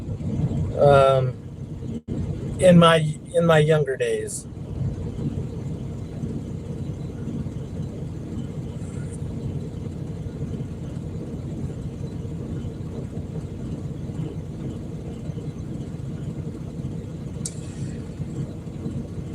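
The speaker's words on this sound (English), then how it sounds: "Let me turn on the truck real quick." A Prime Inc. semi truck's diesel engine settles into a steady low idle rumble that runs on for most of the time, after someone speaks briefly at the start.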